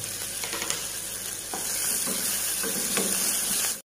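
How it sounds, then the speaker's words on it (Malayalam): Green chillies sizzle in hot oil with onions in a pan as a utensil stirs and scrapes. The frying is close and steady, with no talking. "ഇനി നമുക്കിതിലേക്ക് പച്ചമുളക് ഇട്ട് കൊടുക്കാം."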